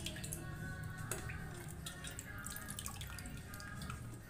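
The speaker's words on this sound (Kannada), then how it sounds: "ನೀರಿಗೆ ಹಾಕಿ ವಾಶ್ ಮಾಡಿಕೊಂಡು ನಿಮಗೆ ಅದು ಯಾವ ಥರ ಅಂತೇಳಿ ಹೇಳ್ತೀನಿ ನಿಮಗೆ." Bitter gourd is rinsed by hand in water, with soft drips, splashes and gentle sloshing going on steadily at low volume, close by with no talking.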